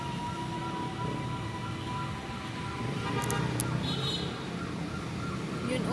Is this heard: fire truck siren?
yes